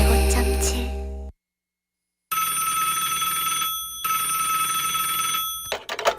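A telephone rings in a radio comedy skit, a bright electronic bell trilling loudly in long repeated bursts with brief gaps, after a short stretch of other broadcast sound and silence.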